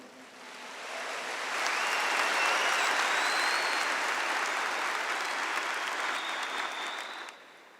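Sustained congregation applause at a church sermon, many hands clapping together, swelling in the first seconds, holding steady, then tapering off at the end.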